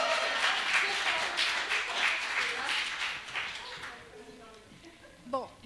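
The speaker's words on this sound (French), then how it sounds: "On applaudit Marie" An audience applauds Marie at a live gathering in a house of prayer, with steady group clapping for several seconds that fades out as a voice begins to speak.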